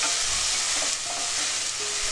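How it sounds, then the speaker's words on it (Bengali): Tomato paste fries in a pan while it is stirred, giving a steady close sizzle with soft scraping of the spoon throughout and no voices. "এরপরে টমেটো পেস্ট আছে ওটা ঢেলে দেব। ভালো করে কষিয়ে"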